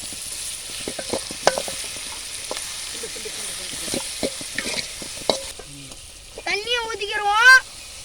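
A spoon scrapes and stirs masala and liver sizzling in a pan, with irregular clinks and a steady fry; a voice speaks near the end.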